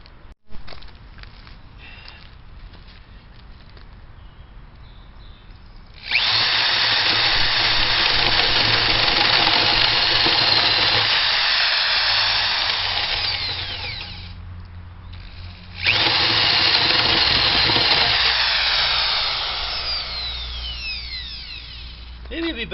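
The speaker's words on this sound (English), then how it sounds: "let's go ahead and drill those in." A power drill bores 1.5-inch holes into the timber of a wooden swing set, two long loud grinding bursts with a lull between and quieter tool noise around them.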